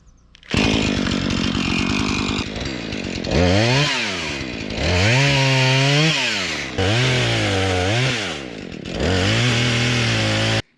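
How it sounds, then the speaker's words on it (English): A chainsaw cuts a felled, bark-beetle-damaged tree into firewood: loud, close engine revving in repeated long bursts that rise and fall in pitch with short idle gaps between cuts. "I'm going to cut this thing up and turn it into firewood"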